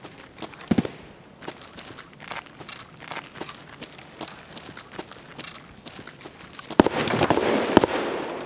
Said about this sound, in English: A lot of shooting.